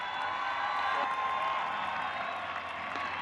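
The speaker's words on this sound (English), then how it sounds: "Without a doubt, the loudest round of applause we have heard today." A crowd applauds and cheers at the World Power Wheelstanding Championships, with steady clapping and whoops that hold at an even level throughout.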